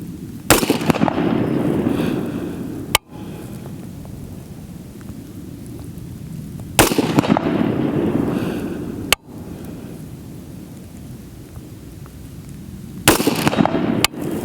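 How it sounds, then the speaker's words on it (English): Three sharp carbine gunshots fire outdoors at a 100-yard target, spaced several seconds apart, each a loud close crack followed by a rumbling echo that decays slowly. "So I'm going to go ahead and shoot here."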